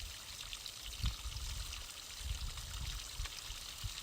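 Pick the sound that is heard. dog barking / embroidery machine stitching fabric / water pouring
water pouring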